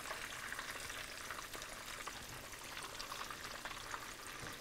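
Silpancho meat patties sizzle steadily in a hot pan after being flipped, giving a close, continuous crackling fry with no voices.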